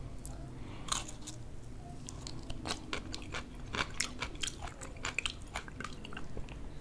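Crinkle-cut pickles on a KFC spicy chicken sandwich are chewed close to the mic, with repeated wet crunches and bites in an uneven rhythm over a low background murmur.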